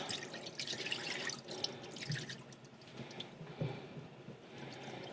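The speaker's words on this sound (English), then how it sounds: "You're just rinsing off the big chunks of salt." Salted corn is rinsed under running water in a sink for Oneida corn soup, a steady faint wash of trickling and dripping water with a few louder splashes, no voices.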